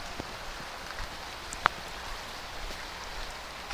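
Rain falls on a parked Tata Nano car outside an ashram guesthouse in Rishikesh, a soft, even patter of drops with one brief sharper tap and no talking.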